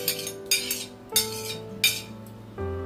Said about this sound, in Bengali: এই আমের শাঁসগুলোকে এই মিক্সি জারের মধ্যে দিয়ে দিচ্ছি